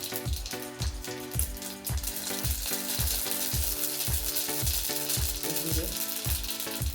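Mustard seeds crackle and sizzle in two large spoonfuls of hot oil for khichdi, a continuous bright fizz with a beat-driven music track playing underneath.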